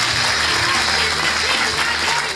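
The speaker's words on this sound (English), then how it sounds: "Give him a round of applause." A comedy club crowd in Perth claps and cheers loudly, a dense, continuous wave of applause filling the room with no break.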